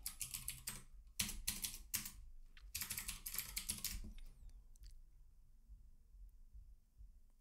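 Bursts of typing on a computer keyboard while a password is entered, with rapid clustered keystrokes in several runs separated by short pauses, close and clear, then fading to quiet.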